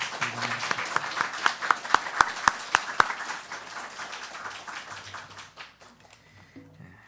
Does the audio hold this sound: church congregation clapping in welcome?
yes